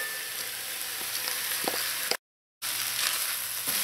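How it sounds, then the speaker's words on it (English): Salted pigtails and spinach sautéing in a pot with no talk, a soft steady sizzle broken by a few light clicks and a brief gap of silence partway through. "So just let this saute in here for 1 minute."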